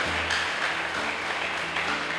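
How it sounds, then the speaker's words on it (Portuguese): A church congregation applauds during worship, a steady, dense burst of clapping that fills the whole moment over a low electrical hum. "Vamos dar um aplauso ao Senhor."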